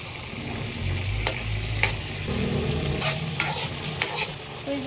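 Buttered shrimp is stirred in a frying pan, a steady sizzle running throughout with scraping strokes of the utensil and a few sharp clacks against the pan.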